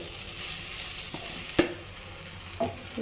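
Puffed rice is stirred into a sizzling mixture in a pan over medium heat for Rayalaseema uggani, with a soft frying hiss under a few sharp spoon scrapes and knocks.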